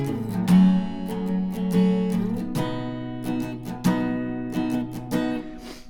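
Guitar strumming the chord progression of a song, sustained ringing chords with crisp strum attacks in a steady rhythm, played close and alone.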